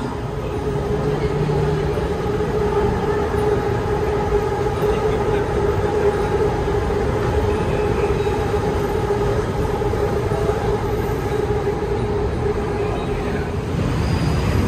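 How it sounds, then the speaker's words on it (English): A steady, heavy rumble of a train rolling past nearby on a Bangkok street, a continuous drone with a low hum holding through the whole stretch. "Oh, here's a train now."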